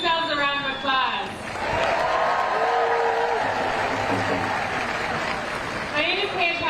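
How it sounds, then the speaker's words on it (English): A crowd at an outdoor protest rally in Washington DC applauds and cheers in a sustained wave, with a voice over the loudspeakers before and after. "Give yourselves a round of applause."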